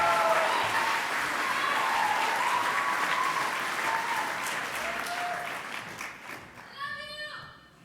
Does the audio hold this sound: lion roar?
no